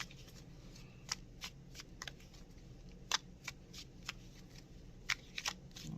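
Tarot cards are shuffled close by in quick, crisp riffles, a series of sharp papery flutters and snaps against a quiet background.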